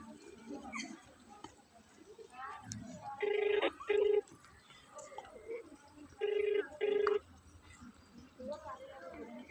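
A telephone rings during a prank call, sounding twice in quick double bursts, then twice more after a pause, with voices talking around the rings.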